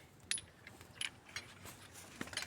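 Keys jingle in a few short, bright bursts, quiet and close, with light metallic clinks between them.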